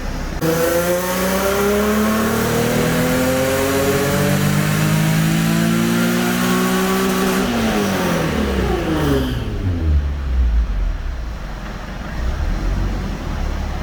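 A stock Nissan 350Z with the HR engine revs hard on a dyno, climbing steadily in pitch through a long, loud pull before the throttle closes and the engine winds down to a rumbling idle.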